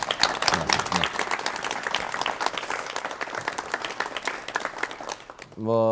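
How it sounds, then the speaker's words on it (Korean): A 1986 Korean television talk-show studio audience gives a steady round of applause to welcome a government vice minister, a dense clapping with a voice faintly underneath, then a brief electronic tone at the very end. "여러분 박수로 맞이해주시면 대단히 고맙겠습니다."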